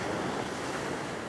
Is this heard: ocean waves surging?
yes